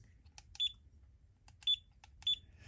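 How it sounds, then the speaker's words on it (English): Three short, loud, high-pitched electronic beeps from an LDARC CT01 8-channel RC radio transmitter, evenly spaced, with quieter clicks between them over a low background hum. "It has the loudest beep I think I've ever heard,"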